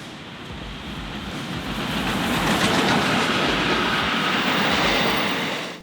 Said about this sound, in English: welcome to my coverage of the 2022 Ballarat Model Railway Exhibition presented by the Ballarat and District Model Railway Club